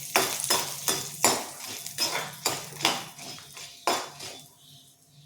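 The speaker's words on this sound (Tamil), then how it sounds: "ஒரு 7-8 காஞ்ச மிளகா சேர்த்துக்கிறேன். இதை நல்லா வதக்கிக்குவோம்" Dried red chillies, seven or eight of them, stirred in a pan for a Tamil pirandai thuvaiyal chutney, giving a run of sharp spoon-on-metal scrapes and clinks in an irregular rhythm, close and fairly loud, with no voices.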